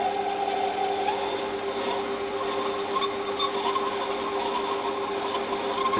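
A lathe runs a 7.5 mm drill slowly at about 300 RPM through a clock part, giving a steady close machine hum and faint whine with no talk.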